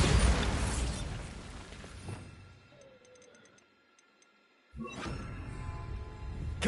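A Bombarda spell bursts in Hogwarts Legacy: a loud booming blast that fades into quiet ticking and faint tones, followed by a second sharp impact and a rumbling tail.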